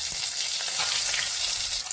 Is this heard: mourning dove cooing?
no